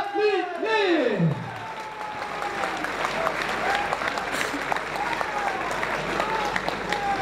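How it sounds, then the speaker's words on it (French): A crowd at a combat sports event applauds a quick submission win: a voice rings out briefly first, then sustained, dense clapping and crowd noise carry on at an even level to the end. "On peut les applaudir très fort, mesdames et messieurs."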